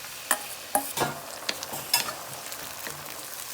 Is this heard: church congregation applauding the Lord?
no